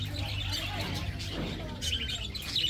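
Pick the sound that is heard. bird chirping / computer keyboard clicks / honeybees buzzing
bird chirping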